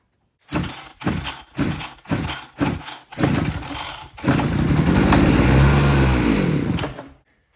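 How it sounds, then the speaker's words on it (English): A small two-stroke string trimmer engine coughs through several rhythmic pull-start attempts, then catches and runs with a steady, buzzing rasp before cutting off. "the engine actually runs and it doesn't knock and make any weird noises"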